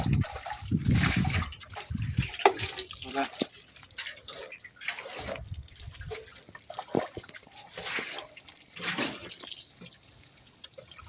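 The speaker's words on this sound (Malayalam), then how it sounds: "വൃത്തിക്ക് വെള്ളം ചളക്കുക" Water splashes and trickles in uneven bursts, with a running-tap quality, while an auto-rickshaw is washed, under intermittent voices nearby.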